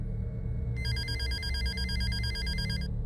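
A telephone rings in a gloomy forest setting, a trilling electronic bell that repeats in quick pulses for about two seconds over a low, steady background rumble, with no one speaking.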